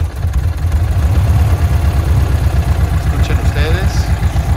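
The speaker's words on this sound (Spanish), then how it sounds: "Escuchen ustedes, su máquina bastante bien." A 1994 Volkswagen Sedan engine runs at a steady idle, a loud, close, even low rumble with a regular pulsing beat throughout.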